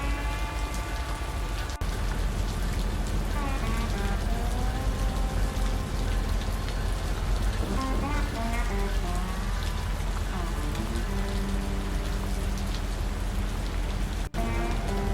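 Steady rain falling on surfaces, a constant dense hiss of drops throughout, with faint tonal sounds mixed in the background.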